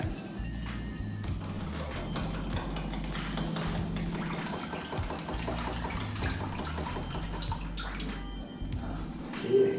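Water and loosened algae being drawn through a homemade tube siphon during cleaning, a steady continuous gurgling rush that holds level throughout with a slight surge near the end, no voices.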